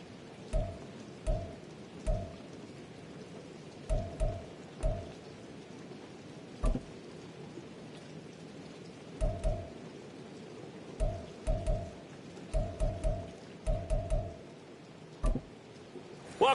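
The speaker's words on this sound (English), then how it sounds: "The rain set to continue as we are underway in the second half." Rain during a football game in Madden NFL 24: a steady wash of falling rain under repeated dull thuds and clicks that come in irregular clusters, with no talking.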